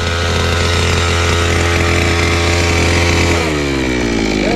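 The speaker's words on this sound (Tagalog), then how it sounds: "And grass cutter." A grass cutter runs on a farm with a loud, close, continuous buzzing engine whine that shifts pitch near the end as the throttle changes.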